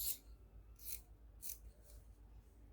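Scissors snip through dress fabric being cut out for the front of a gown, several separate crisp cuts at a steady, unhurried pace, close and fairly quiet.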